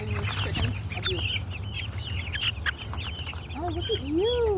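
Chickens cluck and call repeatedly at close range as young chicks are introduced to a mature flock, with a steady low hum underneath and no talk.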